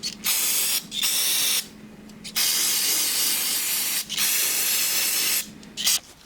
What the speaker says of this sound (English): I'm gonna go ahead and clean up this area with some brake cleaner.